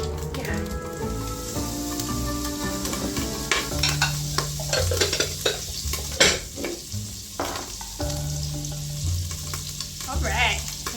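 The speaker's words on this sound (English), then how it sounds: "Alright, then you let that butter melt" Butter melting and sizzling in a pot, ahead of onions for Zuppa Toscana; a steady close frying hiss runs throughout, with occasional stirring scrapes and light pan clinks.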